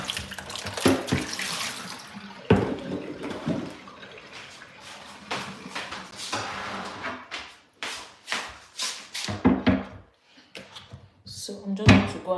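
Tap water runs into a sink while produce is washed for weight-loss juicing, intermittent splashing and rinsing bursts with clunks and handling noises, mixed with a person talking throughout.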